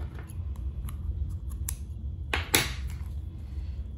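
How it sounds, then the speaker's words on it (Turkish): Scissors snip through knitting yarn for a scarf project, a couple of sharp close cuts over a quiet low room hum. "Buradan da şöyle ipimi kesiyorum"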